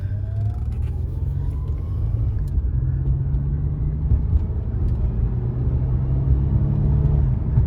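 A car rolls along a road or track at a steady pace, its low engine rumble and tire whir close and constant, rising slightly toward the end, with no speech.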